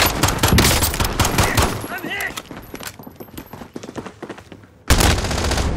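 Rapid bursts of gunfire crackle in Call of Duty: Modern Warfare, sounding as dense, loud volleys that break off and then resume sharply, with a player's voice talking over the shooting.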